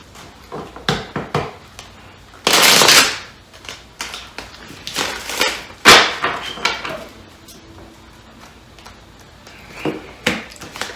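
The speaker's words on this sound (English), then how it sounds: "I'm gonna shuffle them again while you're on the phone" Tarot cards are shuffled in a few crisp riffling bursts, separated by light taps and clicks, close and fairly loud.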